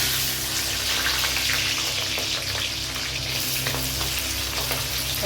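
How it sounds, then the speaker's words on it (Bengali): Chopped onions frying in oil in a kadai, a steady loud sizzle with crackling bursts running continuously and close by, no talking. "এবারে কড়াইতে পেঁয়াজগুলো দিয়ে দেবো"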